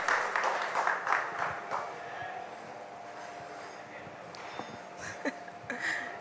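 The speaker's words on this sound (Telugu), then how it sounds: "సో నేషనల్ అవార్డ్ విన్నింగ్ ప్రొడ్యూసర్కి ఒక్కసారి గట్టిగా చప్పట్లు" Applause for a national award-winning producer at a Telugu film event: a crowd claps strongly at first, then the sound thins and fades into a noisy room, with voices and murmur underneath.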